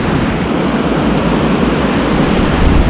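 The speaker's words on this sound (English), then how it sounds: "Right out there where the waves are breaking." Ocean surf breaking on a beach during surfcasting for striped bass, a steady, loud broadband wash of waves with low rumbling swells, continuous throughout with no voices.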